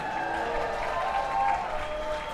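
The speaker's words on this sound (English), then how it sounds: "One more round of applause for our women's speed semifinalists." An audience at the Parkour World Championships applauds steadily for the women's speed semifinalists, a dense wash of clapping and crowd noise that holds at an even level throughout.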